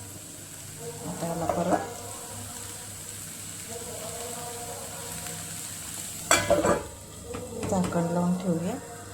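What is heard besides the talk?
stirring ridge gourd chutney mixture in a pan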